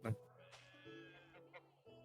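Sheep bleat in the medieval farming game Medieval Dynasty, a couple of wavering, drawn-out cries close by, with livestock calls overlapping.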